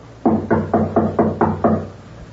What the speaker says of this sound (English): Knock again.